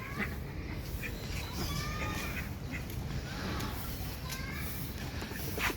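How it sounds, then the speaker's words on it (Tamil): Ducks at a birds park in Trichy quack in short, repeated bursts over a dense, noisy background of other birds and crowd murmur. "இது ஒரு வாத்து வெரைட்டி."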